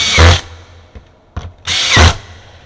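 A power drill whirs in two short bursts while a 1970 vintage Ludwig Green Sparkle tom drum is assembled, with faint mechanical clicks in the brief pause between them.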